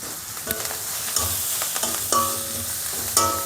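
Grated carrot and fresh coriander leaves fry in hot oil, with a steady sizzle and repeated scrapes and clinks of a spoon stirring the pan, close and alone.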